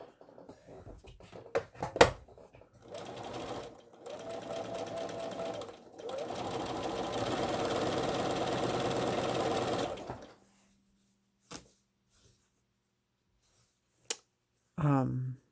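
A sewing machine stitches small quilt block pieces together in a few separate runs: short bursts first, then a longer steady whir, followed by silence and a couple of isolated clicks. Close and clear, with no talking over the stitching.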